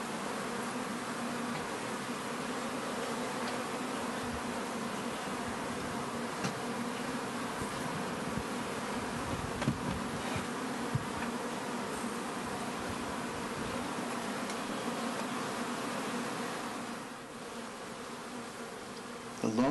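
Honey bees buzz around their hives during a poisoning die-off while willows are in bloom, a steady close droning hum that holds continuously throughout without talk.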